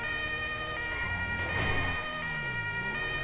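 A police siren from Grand Theft Auto 5 with the LSPDFR mod wails in a steady electronic tone over a low vehicle hum, with a brief swoop near the end.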